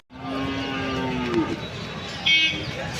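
A jallikattu bull moos once, long and fairly close, at a busy cattle market, with crowd murmur and a brief high chirp behind it.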